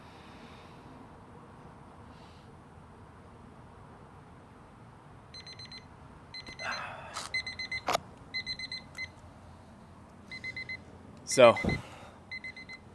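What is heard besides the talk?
timer alarm going off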